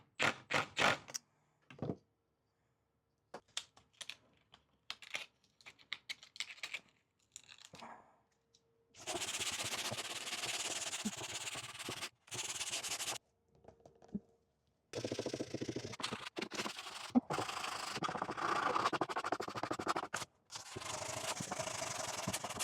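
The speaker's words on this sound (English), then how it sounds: "I'm gonna switch to a sand block." Wood for a planter box being hand-sanded with a homemade flat scrap-wood sanding block: short scrapes at first, then long steady rasping strokes in bursts with brief pauses, close by.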